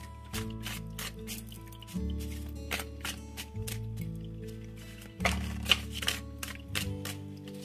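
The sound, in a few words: tarot cards being handled and shuffled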